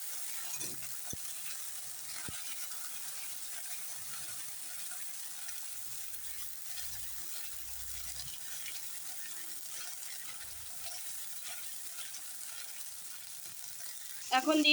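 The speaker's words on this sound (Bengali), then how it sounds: "এটা এখন ভালো করে কষিয়ে নেব" Paneer curry masala sautéing in a pan, a steady soft sizzle and frying hiss running throughout, with occasional scrapes of stirring and a louder clatter at the very end.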